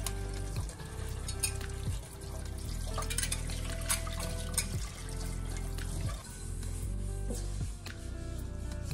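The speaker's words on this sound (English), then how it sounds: "So I'll do the washing now immediately, because I think it's much harder to clean it after it's dry." Running tap water splashes and clatters into a mixing bowl, scrubbed by hand right after sourdough dough is mixed. The rushing, rubbing wash sound is close and continuous for about nine seconds, with no one talking.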